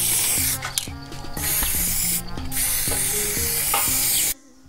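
An aerosol spray paint can marks an identification code on a house wall, with several close hissing bursts, rattles and scraping handling sounds between sprays before stopping abruptly.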